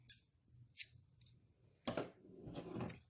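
Scissors cut a yarn tail on a loom-knit scrunchie: a few quick, close snips at an uneven pace in a quiet room.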